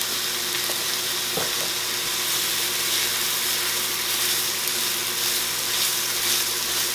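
Onions caramelizing in olive oil give a steady, close sizzle that hisses on without a break, with occasional stirring clinks and no talk.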